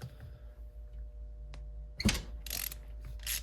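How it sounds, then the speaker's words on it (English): A ratchet wrench loosening 12mm bolts on the front left engine mount of a 2003 car: after a quiet low hum, a few short, sharp clicking ratchet bursts sound close by. "we have access to these two 12mm bolts right back here. And we should be able to break those loose"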